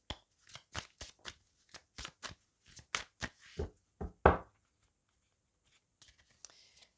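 Oracle cards shuffled and drawn in a quiet room during a tarot-style reading, giving a run of about a dozen crisp, close riffling snaps and slaps over four seconds, then near silence with a few faint soft taps.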